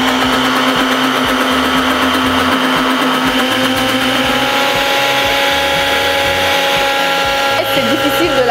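An electric mixer whirs steadily and loudly through eggs, with oil being added little by little for homemade mayonnaise, a continuous motor drone with a faint pitch shift near the end.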